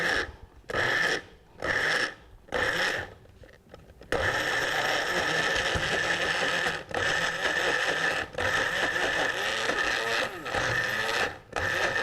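A blender pulses pesto made with extra virgin olive oil, starting with several short separate bursts and then settling into a longer steady whir broken by brief pauses.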